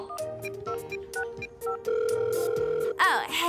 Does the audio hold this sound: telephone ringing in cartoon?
yes